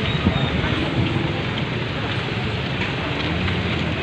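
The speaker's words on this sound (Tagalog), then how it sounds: "Lalo malakas na yung ulan." Dense, heavy typhoon rain pours down steadily near the San Mateo River during Typhoon Ulysses, a constant loud hiss and patter with no pauses from start to finish.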